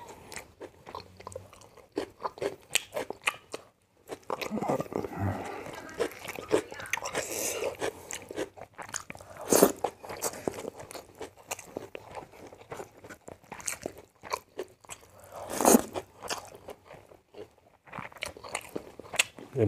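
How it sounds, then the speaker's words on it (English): Raw onion bitten and chewed with crisp crunches, near and fairly faint, in repeated irregular bites with brief pauses, plus a few sharper cracks and a little quiet talk. "Let me try this onion."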